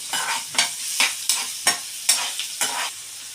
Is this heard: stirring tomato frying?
yes